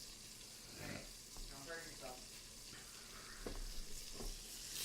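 An okonomiyaki pancake sizzles in a pan once the lid is lifted, a soft, steady crackling hiss beneath a man's casual speech.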